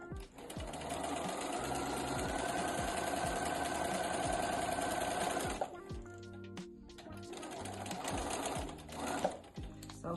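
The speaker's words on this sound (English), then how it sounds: "When I start sewing, I tuck the end of my thread under my foot, and that helps as well." A sewing machine stitches foundation paper piecing up close, running steadily for about five seconds with a rhythmic whirring hum, pausing briefly, then running again in shorter bursts.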